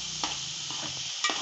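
Tomatoes for chicken dum biryani frying in a pan with a steady hissing sizzle, broken by two or three scraping strokes of a spoon stirring them, close by and with no talking.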